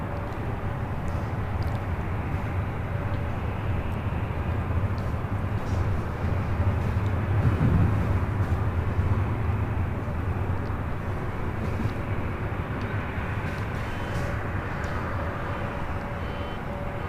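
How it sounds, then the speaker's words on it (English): An EVA Air Boeing 777-300ER arriving at LAX from Taipei as a steady, distant jet roar, swelling slightly midway, under constant airport background noise. "we do have EVA Air Flight 12 coming in from Taipei. It's 777-300ER number 2"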